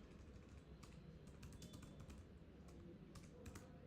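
Quiet, steady typing on a computer keyboard while writing web page code, soft irregular key clicks with a few sharper taps, no talking.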